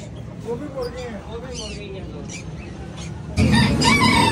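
Roosters at a pet market crow and cluck amid a busy crowd, with people talking nearby; the calls sit under the chatter and a louder burst of market noise swells near the end.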